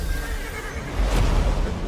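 A horse neighs in a Highguard video game trailer, a single whinny rising mid-clip over a steady, dense backdrop of trailer music and ambience.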